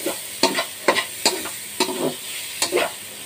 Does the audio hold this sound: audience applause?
no